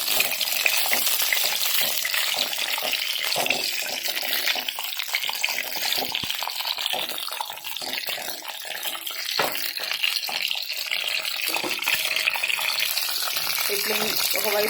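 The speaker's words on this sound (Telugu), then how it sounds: "వీటిని ఇప్పుడు ఫ్రై చేసుకోవాలి ఆయిల్లో." Capsicum pieces frying in oil for a masala curry, a continuous bubbling sizzle with irregular crackles and spatters, fairly close and steady over about fifteen seconds.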